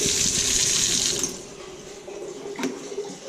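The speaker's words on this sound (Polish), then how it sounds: "Taki zraszacz bym powiedział, ale wszędzie, lata, wszędzie latają kropelki wody." Water spraying from a running tap fitted with a sprinkler-like attachment, droplets flying everywhere; a steady close hiss of spray that eases after the first second, with a brief splash near the end.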